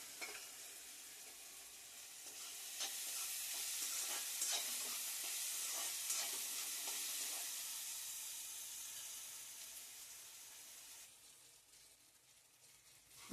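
Onion and tomato fry with salt and turmeric while a spoon stirs through them, a soft continuous sizzle with scraping strokes that swells in the middle and fades near the end, quiet and close, with no talking.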